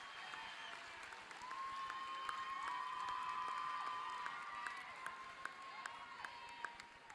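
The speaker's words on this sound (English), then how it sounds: "let's give our homecoming court a big round of applause" Applause and cheering in a high school gym at a boys basketball game as the homecoming court is honoured; steady crowd clapping with whistles and shouts, a sustained whistle tone and sharp sneaker squeaks scattered through.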